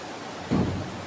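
Rain falling outside a church service, a steady broad hiss that swells into a low rumbling surge midway through the short stretch, with no voices.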